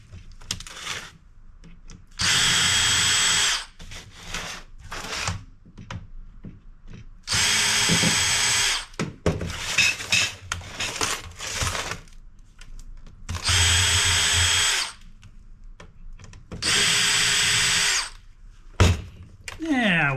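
A power drill backs screws out of the edge of a flat screen TV being broken down for scrap, whirring in four or five loud sustained bursts of a second or so, with someone talking and handling clatter between them.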